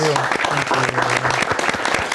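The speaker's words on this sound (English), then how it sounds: "A round of applause for all three candidates." Studio audience at a state representative candidate debate applauds the three candidates, a brisk burst of clapping heard alongside a speaking voice cutting through it.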